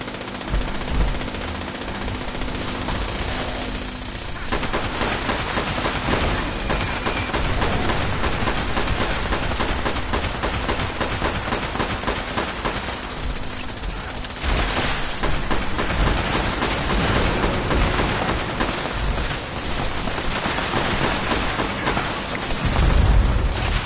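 Berserkers in a wasteland video game fire miniguns in long, dense, continuous roaring bursts. The loud fire runs almost without a break, with a brief lull and booming impacts mixed in.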